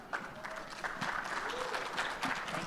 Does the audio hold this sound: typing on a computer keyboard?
no